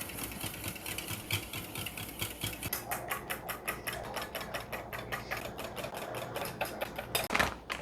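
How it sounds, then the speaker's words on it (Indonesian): A kitchen blender whirs steadily while mixing dessert batter of egg, milk and flour, its motor buzzing with a fast rapid pulsing texture, loud and close throughout, no voices. "Mending di blender aja."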